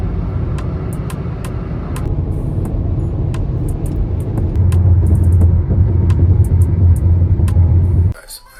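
A car cruises on a long highway drive toward Alamogordo, New Mexico, with a loud, steady interior rumble and road noise that swells midway, dotted with small clicks, then drops off abruptly at the end.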